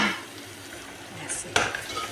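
Cleaned goat brain (maghaz) dropped into mashed tomato masala in a pan, giving a brief clatter of utensil on metal and a soft sizzle and stir against quiet kitchen background.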